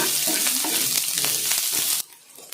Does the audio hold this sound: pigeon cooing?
no